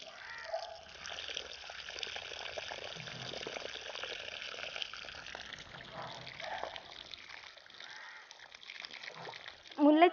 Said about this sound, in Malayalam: ഇനി നമുക്ക് ഇതൊന്ന് നല്ല രീതിയിലൊന്ന് നനച്ചു കൊടുക്കാം.